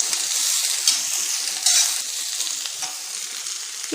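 Drumsticks (moringa pods) sauté in a pan for a Tamil poriyal, giving a steady close hiss and sizzle with a few louder bursts as they are stirred, with no talk.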